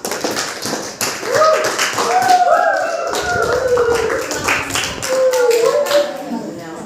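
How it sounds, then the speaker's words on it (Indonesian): Classroom of junior high students clapping for a student group after its presentation, a steady patter of many hands with children's voices and chatter mixed in throughout. "Tepuk tangan dulu buat kelompok 1."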